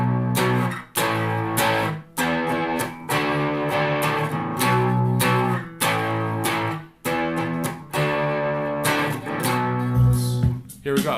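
Electric guitar strumming bar chords from a song, bright rhythmic chord hits with short breaks between phrases, loud and close.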